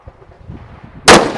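A single loud, sharp gunshot from a Faxon carbine fired at a target on a shooting range, bursting out after a stretch of quiet low rumble and rustling, then ringing off briefly.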